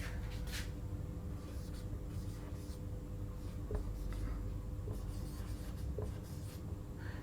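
Chalk or marker writing on a board during a reasoning lecture on calendars, faint scratchy strokes in short bursts over a constant low room hum, without any speech.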